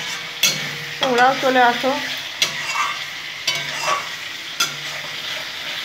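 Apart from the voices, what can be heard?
egg curry masala being stirred and fried in a pan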